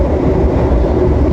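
An additional passenger train runs at speed on the Indonesian line toward Kroya, giving a dense, loud, continuous rumble and roar of wheels on rails with no pauses.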